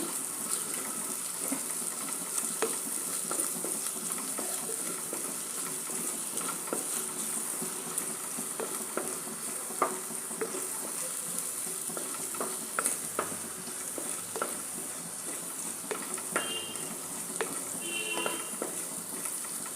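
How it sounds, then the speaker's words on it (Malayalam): Squid being sautéed and stirred in a clay pot for a roasted-coconut squid curry, a continuous close sizzle with frequent scraping and clinking of a spoon against the pot, no talking. "ഇതൊരു 2 മിനിറ്റ് ഇങ്ങനെ വഴറ്റുക"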